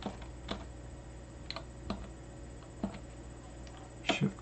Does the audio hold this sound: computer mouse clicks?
yes